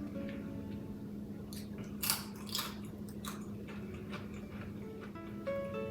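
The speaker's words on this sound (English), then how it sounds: "Let's try another bite, this little bit crispier piece." Crispy fully cooked bacon is bitten and chewed close up, giving several quiet, sharp crunches and crackles over a faint steady background hum.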